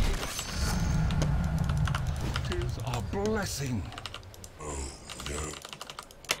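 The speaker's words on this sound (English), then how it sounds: "It's really loud because it is a mechanical keyboard that has black keys." Clacky typing on a SteelSeries 6GB2 mechanical keyboard with black keys, a steady run of loud keystrokes close to the mic while someone talks over it during a Dota 2 game.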